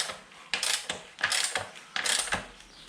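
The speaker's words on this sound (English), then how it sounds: "I'm gonna use this ratchet to loosen it up" Ratchet wrench loosening a tight bolt on a 2009 Buell XB12S motorcycle during a drive belt replacement, giving three separate bursts of rapid close clicking with brief pauses between them.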